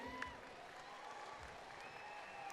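A rodeo crowd at a PBR bull-riding event in Tamworth, Australia, gives scattered, moderate applause with some cheering, heard from a distance with a faint voice underneath.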